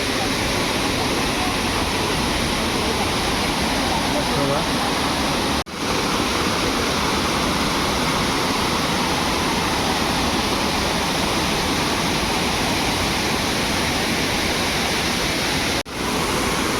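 Savdav waterfall in Konkan roars as a loud, constant broadband rush of falling water, heard close with no breaks except two brief dips.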